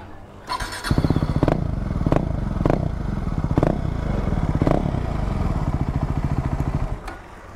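A KTM RC 390 motorcycle with the exhaust baffle (dB killer) removed cranks and starts, then idles loudly close by with several sharp throttle blips, no talking.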